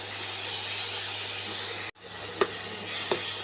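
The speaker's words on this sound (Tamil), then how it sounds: "இதை வறுத்துட்டு தான் செஞ்சுருக்கோம், இருந்தாலும் கிரேவியோடு நல்லா மிக்ஸ் ஆகிற மாதிரி நல்லா வதக்கி எடுத்துக்கலாங்க." Kadai paneer masala gravy sautéing in a pan, a steady close hiss and sizzle broken by a brief gap, then a couple of soft stirring clicks over the continuing sizzle.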